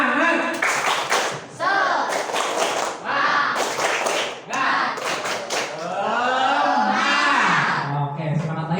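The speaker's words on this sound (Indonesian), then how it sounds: "Sekarang berdiri, angkat tangannya ke tepuk tangannya" A class of students in an Indonesian classroom clapping hands together in a rhythmic spirited cheer, repeated bursts of sharp claps with voices shouting along over them.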